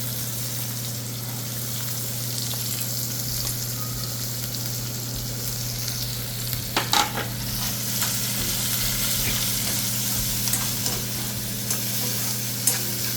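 Green chilies and onion frying in hot oil for pithla: a loud, continuous close sizzle with a brief burst of stirring and clatter partway through, no voices.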